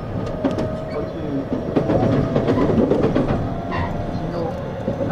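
Interior running sound of a JR East E351 series Super Azusa limited express from Shinjuku toward Matsumoto: steady rumble with rhythmic wheel clicks over rail joints, a faint tonal motor whine, no talk.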